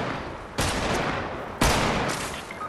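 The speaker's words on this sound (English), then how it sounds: "Somebody shooting at you?" Two bursts of video-game gunfire, each a loud sharp crack followed by a dense rattle of rapid shots, the second burst starting about a second after the first.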